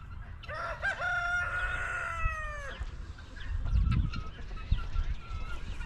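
A rooster crows clearly on a springtime afternoon farm, followed by chickens clucking and scratching close by, with soft rustling and thumps in the background.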